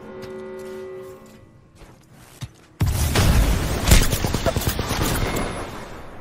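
Apex Legends gunfire: quiet clicks and faint shots at first, then a sudden loud burst of rapid, dense automatic fire and booms that continues to the end.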